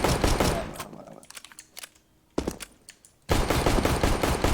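First-person shooter gunfire from a video game, rapid automatic bursts that start and stop, loud and close, with a quieter pause in the middle before a sustained stream of shots resumes.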